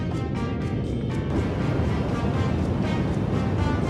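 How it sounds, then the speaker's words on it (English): A rain sound effect plays back as a steady, dense hiss of broadband noise, loud and unbroken for the whole stretch, with no voices over it. "And then rain."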